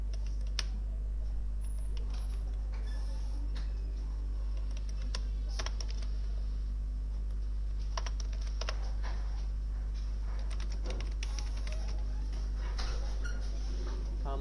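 Git commands being typed on a computer keyboard, with steady clusters of clicking keystrokes in irregular bursts over a constant low electrical hum, close up and without any talking.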